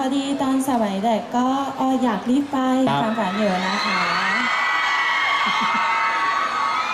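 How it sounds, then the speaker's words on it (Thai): Crowd of fans at a press conference in Bangkok screaming in a high, sustained shrill roar that rises and fills the room after someone speaks over a microphone. "ฉันรู้แล้วแหละว่าทำไมพวกเธอถึงกรี๊ดขนาดนี้"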